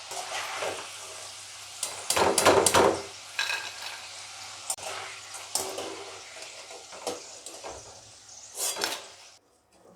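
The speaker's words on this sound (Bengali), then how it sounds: "এরকম লাল যখন হয়ে যাচ্ছে, ঘন ঘন নাড়ছি, আঁচটাও তখন একটু কমিয়ে দিয়েছি।" Garlic-flavoured potato slices fry in a pan while being stirred often, giving a soft sizzle broken by close, irregular scrapes and clatters of the utensil against the pan.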